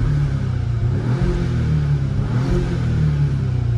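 Audi car engine revving with the exhaust valves open and windows down, already warm; a steady, loud, close throaty drone holding constant for the whole stretch with no talk over it.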